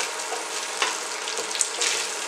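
Red onion sautéing in oil in a pan, a steady broadband sizzle with a few brief scraping stirs, close and fairly loud, no voices.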